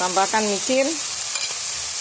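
Chicken pastry filling with minced chicken and spring onion sizzling in a pan as it is stirred, soft scraping and frying hiss under a brief spoken remark, then a quieter steady sizzle.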